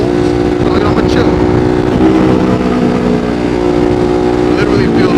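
A Ducati Monster 1200 motorcycle engine drones loudly and continuously while riding, with steady exhaust rumble shaking the bike and wind noise throughout.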